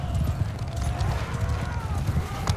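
Galloping horse hooves in Mount & Blade II: Bannerlord, a rapid clip-clop rhythm thudding steadily under battle ambience, fairly close and moderately loud, with no talk.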